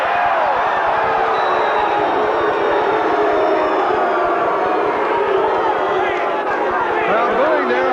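A boxing arena crowd roars steadily throughout, a dense, loud wash of cheering and shouting with no break.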